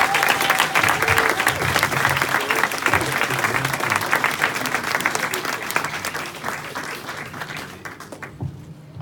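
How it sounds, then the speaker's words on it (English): A crowd gives a round of applause at a mental health and suicide performance project event, dense sustained clapping from many hands that tapers off near the end, with some voices underneath. "can we give him another round of applause?"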